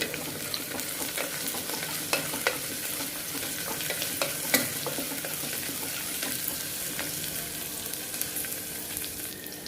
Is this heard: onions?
yes